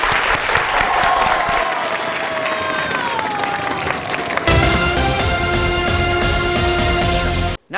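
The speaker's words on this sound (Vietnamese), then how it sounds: "hãy thể hiện sự sẵn sàng bằng một tràng vỗ tay" A studio audience at the Vietnamese game show Đuổi Hình Bắt Chữ bursts into loud, sustained applause that fills the whole stretch, with a steady roar of many hands and a musical tone running underneath.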